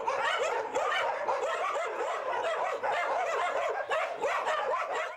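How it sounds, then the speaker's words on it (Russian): About seventy dogs bark at once at a large animal shelter, a dense, continuous chorus of overlapping barks and yips close by, with a few whimpers mixed in and no speech. "Лай 70 хвостатых разносится по территории большого и комфортного собачьего дома."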